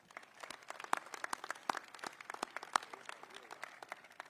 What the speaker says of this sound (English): please join me in a round of applause for Jenny